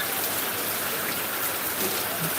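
Heavy rain pours steadily on a monsoon-season day in northern Bangladesh, a dense, continuous hiss with no breaks or voices.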